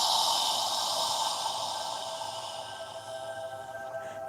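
A long, slow exhalation through the nose during a yoga breathing exercise, a breathy hiss close to the microphone that gradually fades over several seconds.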